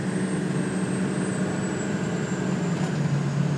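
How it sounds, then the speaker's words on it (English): A 1999 Ford F350 diesel engine with its turbo spooling: a steady, loud drone topped by a thin, high turbo whistle, heard alone without talk. "There's the turbo."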